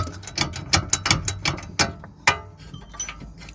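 Ratchet working loose the top bolt on a worn rear brake of an Audi A3/RS3, a series of close, loud clicking bursts in uneven rhythm with short pauses, no talk.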